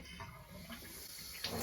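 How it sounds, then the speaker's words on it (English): Warm tap water runs over a Dyson stick cordless vacuum filter being rinsed, a steady soft splashing and trickling, fairly quiet, with a louder gush of water near the end. "we simply just give it a really good rinse out under the warm water"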